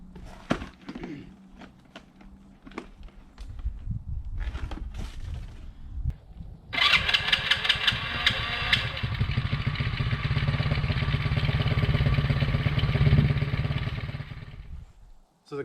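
A cold Tao Tao 110cc Coolster 3050c Chinese ATV engine with a poorly set carburetor cranks with scattered knocks and clatter, then catches and settles into a loud, steady, rattly idle on a freezing day, with brief voices early on.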